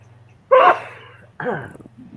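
A single sharp sneeze bursts out close by, followed by a brief sniffle or breathy after-sound over a low steady hum.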